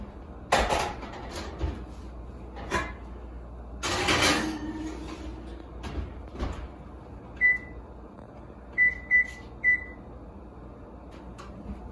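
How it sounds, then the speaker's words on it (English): An oven's control panel is set to preheat to 450 degrees with a Dutch oven inside: a few clunks and rattles at first, then a handful of short, clear electronic beeps in a quiet kitchen. "we're going to preheat the oven with the Dutch oven in it at 450 degrees"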